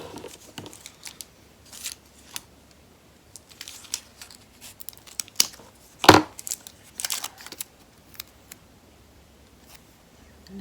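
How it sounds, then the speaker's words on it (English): Tape being torn off a roll while making a double slider card, a short sharp ripping burst near the middle among scattered crinkles and small paper handling noises, close and without talk. "I may have to use another piece of tape because of the bulk on this"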